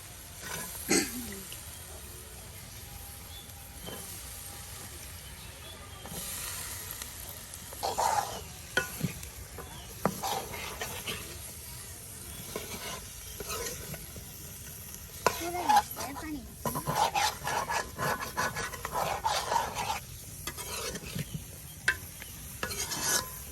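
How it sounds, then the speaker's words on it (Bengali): Vegetables fry with spices in a pan for a traditional Mymensingh dish, the mix scraped and stirred with a spatula over a soft, continuous sizzle, with scattered louder clanks and scrapes. "যে আপনার সবজিগুলো একদম মশলার সাথে এখন কষানো হচ্ছে"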